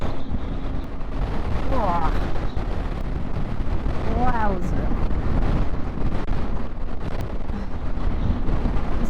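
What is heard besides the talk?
strong gusting wind while riding a motorcycle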